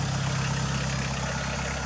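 A Kubota L2602DT four-wheel-drive tractor, original with its disc implement, idles steadily up close with a low, even diesel rumble and no talk over it.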